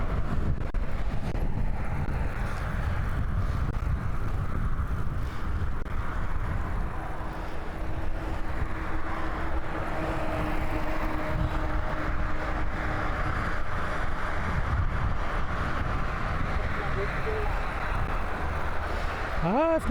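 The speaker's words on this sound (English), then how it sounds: "It's not bad. It's windy though." Strong wind buffets the microphone on a cold, windy morning commute ride on Vancouver Island, a loud continuous low rumble and rush with steady road noise underneath.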